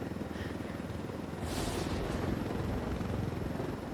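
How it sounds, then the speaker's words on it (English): Helicopter flying in the video game Ghost Recon Wildlands, a steady rumbling rotor drone with a swell of louder, harsher noise partway through, continuous and close. "there's turbulence on this chopper."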